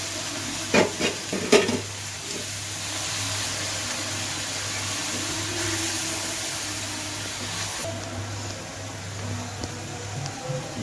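Chicken kosha masala stirred and fried in a pan, a steady low sizzle with a few sharp spoon scrapes near the start, then a continuous soft frying hiss throughout.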